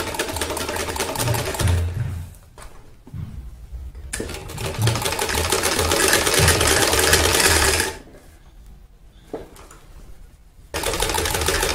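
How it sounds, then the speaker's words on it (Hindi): An electric sewing machine runs along the side seams of a kameez, its fast close needle chatter coming in long bursts separated by quiet pauses. "ये हम कमीज़ के साइड की सिलाई"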